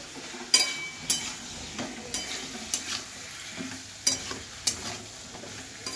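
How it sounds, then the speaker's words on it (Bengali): Ginger-garlic paste, turmeric and chili fry with a quiet sizzle in a pan while a spoon scrapes and clinks against the metal in regular strokes roughly every half second. "ও মশলাটা ভাজা হতে হয়েছে, এটাও ভাজা হয়ে যাবে"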